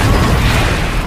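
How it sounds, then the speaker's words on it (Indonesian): A room explodes in a film scene: a dense, loud, roaring blast that fills the whole second with broad rumbling noise and no clear decay. "tiba-tiba saja ruangan tersebut meledak seketika"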